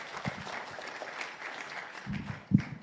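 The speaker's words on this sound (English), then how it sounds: "Please give the Secretary General a round of applause." Audience applause for the ANC Secretary General at an energy dialogue, a soft, distant patter of clapping across the hall, with a few closer thumps near the end.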